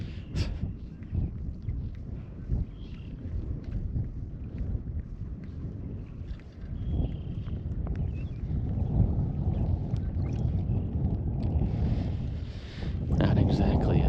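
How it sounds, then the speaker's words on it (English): Cold wind blows across open water from a boat, a steady low rumbling buffet on the microphone that persists throughout with small knocks and a gust swelling near the end. "that wind is cold"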